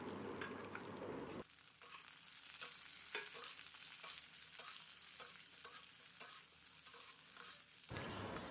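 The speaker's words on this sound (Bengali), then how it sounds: "পেঁয়াজ, ক্যাপসিকাম আর আলু ভালো করে ভাজা করে নিতে হবে।" Potato, capsicum and onion sizzle in a pan while a utensil stirs them, giving regular scraping strokes over a steady frying hiss, close up and with no talking.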